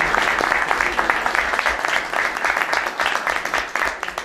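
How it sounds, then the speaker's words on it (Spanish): A room of people at an official meeting applauds the newly elected president of a joint body, with dense, steady clapping throughout and a few voices underneath. "Así que pido un aplauso para..."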